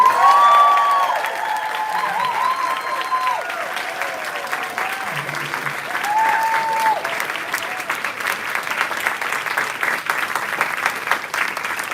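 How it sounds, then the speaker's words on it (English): An audience at an evening capstone presentation event gives a long round of applause, dense and loud at first and then tapering slightly, with a voice speaking over it. "let's hear like an even more raucous round of applause for all of our forefront fellows tonight"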